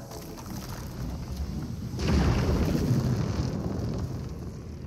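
Lightning strikes a lightning tree in the video game TerraTech Worlds, a deep rumbling roar that swells suddenly over a windy background and slowly fades.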